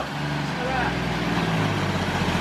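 A 1939 Chevrolet Business Coupe found after thirty years in a garage runs with a steady, low, rumbling engine idle that fills the clip evenly, while people talk over it.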